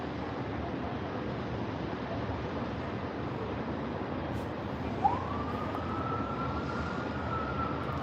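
A police siren starts partway through and holds a steady wail over continuous broadband city street noise on the Las Vegas Strip, moderately distant.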